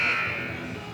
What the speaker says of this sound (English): the buzzer sounds to bring both teams back out onto the court